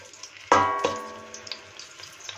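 Three chopped leeks go into hot oil with a sharp metallic clank of pan or utensil, followed by a quiet, uneven crackle of frying with scattered small pops.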